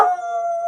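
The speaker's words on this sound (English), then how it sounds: "But anyway, Cherry, my puppy's barking." A puppy gives one close, drawn-out howling bark with a whiny, tonal edge, lasting under a second and heard alone in a garden.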